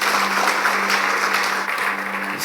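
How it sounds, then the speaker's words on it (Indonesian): A church congregation applauding together, a loud continuous roar of many hands clapping that holds steady throughout, close and full, with a faint tonal hum beneath. "Tepuk tangan bagi Tuhan Yesus."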